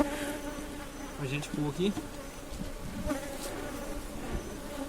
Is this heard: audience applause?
no